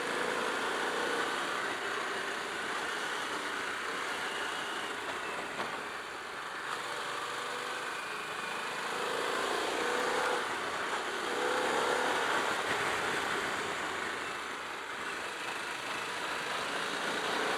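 Harley-Davidson Pan America Special motorcycle being ridden on supermoto-style terrain, engine droning fairly faint beneath heavy wind rush, with gentle swells in throttle.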